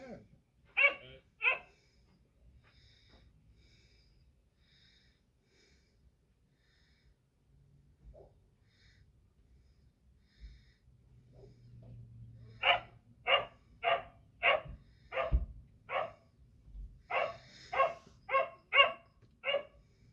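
A roommate's dogs bark in a loud, nearby series: a few early barks, a quiet stretch, then a dense run of rhythmic barking toward the end.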